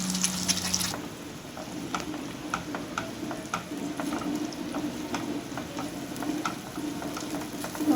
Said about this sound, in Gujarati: તેલ ગરમ થઈ ગયું છે હવે એમાં ગ્રેવી નાખી